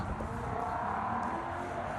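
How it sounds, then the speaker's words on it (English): Passing vehicle with a big engine heard on a street during a walk, a steady droning roar that stays loud and even throughout with no voices over it. "That was a big engine."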